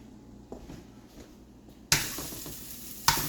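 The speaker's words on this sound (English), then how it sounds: "We're gonna go throw it in the pan on the stove here quick." Homemade sausage mixture dropped into a hot pan on a stove: a quiet start with light handling sounds, then a sudden loud burst of sizzling that keeps hissing, followed by a second sharp sizzle flare.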